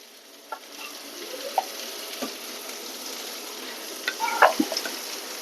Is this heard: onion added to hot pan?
yes